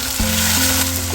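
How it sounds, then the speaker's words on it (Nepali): Chopped tomato fries in a pan with onions and chili, giving a loud, steady hiss and crackle up close with a faint stirring shift partway through. "अब एकछिन भुट्नु दिनुहोस् यसलाई,"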